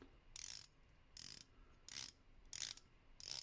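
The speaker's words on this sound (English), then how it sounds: "Let's check out the bezel action." A stainless steel San Martin SBBN015 dive watch bezel is turned in five quick bursts of fine ratcheting clicks. Each burst is close and soft, with short silent gaps between them.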